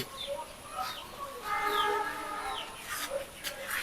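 Hens and chicks on a layer farm cluck and cheep together, a soft, busy mix of calls at moderate distance.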